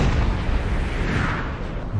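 Cannon artillery fire in a Napoleon Total War mod set in an 1805 French campaign, a dense continuous rumble of distant booms and bursts rolling along steadily with no clear separate shots.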